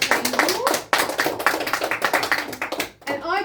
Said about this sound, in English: Give him a round of applause as he's now leaving our table.